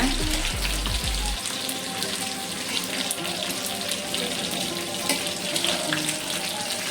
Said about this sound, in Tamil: Side by side fish fry ஆகிட்டுருக்கு.